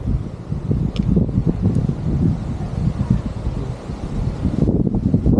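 Strong wind gusting outdoors around a monument plaza lined with trees, a loud, steady buffeting roar across the microphone with rustling, continuous throughout with brief dips in intensity.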